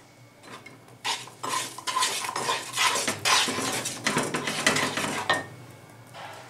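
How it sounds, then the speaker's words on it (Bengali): A powdered milk sandesh mixture is stirred briskly in a pan, the utensil scraping and clinking against the metal in a dense, continuous run of close, loud strokes that fade out near the end. "এটা আমার ঘন ঘন নাড়তে হবে।"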